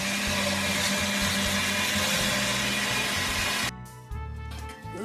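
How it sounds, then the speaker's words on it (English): A blender whirs loudly and continuously as it purées tomatoes, green peppers and jalapeños, then cuts off abruptly and restarts briefly at a lower, uneven drone. "Now I gotta blend the vegetables, the tomatoes, green peppers, and jalapenos is what I use."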